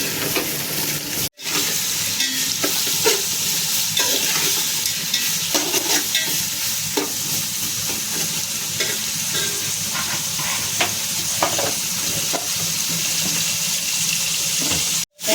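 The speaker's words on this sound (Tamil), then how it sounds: "நல்லா வதங்கட்டும், கொஞ்சம் வதங்கட்டும்." Sliced vegetables sauté in a pan, with a steady sizzle broken by frequent stirring scrapes and knocks, plus a running-water sound, near and loud.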